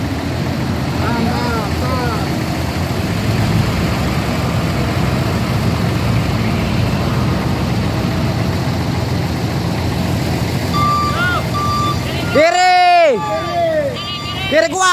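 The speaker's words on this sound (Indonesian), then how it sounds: "Oke, ini truk Hinonya." A Hino truck idles and rumbles close by, with loud talk over the engine throughout; near the end the engine note swells and shifts as the truck is manoeuvred, while no clear reversing beeps stand out.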